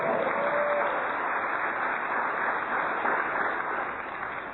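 A church congregation applauds during a sermon, a steady dense wash of clapping that holds for several seconds and thins slightly toward the end.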